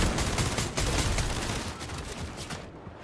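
Dense, sustained gunfire from the Fortnite video game, a loud, continuous barrage of overlapping shots that fills the whole moment before easing slightly at the end.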